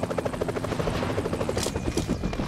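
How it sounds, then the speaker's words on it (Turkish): Helicopter rotor from the PUBG Mobile battle royale game, a steady rhythmic chopping thump that holds close and loud throughout with no talk over it. "Ben şu helikopteri bir daha aşağı indireyim."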